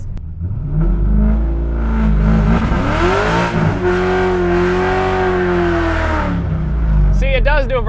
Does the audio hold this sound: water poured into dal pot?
no